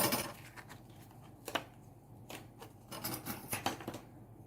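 Scissors snipping out small paper pieces for a garden party mini album, a few quiet, irregular cuts with rustling paper between them, close and soft.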